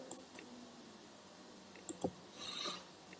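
Computer mouse clicking in CAD software: a few sharp, quiet clicks spaced irregularly, with a short soft rustle near the end, in an otherwise quiet room.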